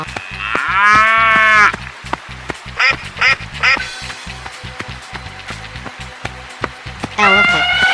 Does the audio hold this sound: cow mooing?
yes